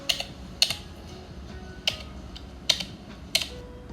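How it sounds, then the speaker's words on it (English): Custom keyboard typing sound effect: a handful of sharp, separate clicky keystrokes spaced irregularly over a quiet background hum. "And that's a custom typing sound."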